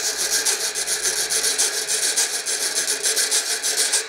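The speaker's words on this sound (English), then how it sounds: "called the Reco-reco, and they use it for playing samba" A homemade reco-reco samba scraper made from drain pipe, old bed spring and coat hanger is scraped in a steady fast rhythm, a loud close rasping ratchet with regular pulses and no voices.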